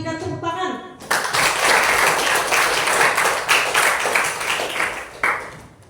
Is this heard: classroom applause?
yes